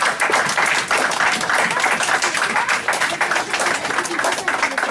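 A church congregation bursts into steady, loud applause, a dense wash of many hands clapping together with voices mixed in, sustained without a break.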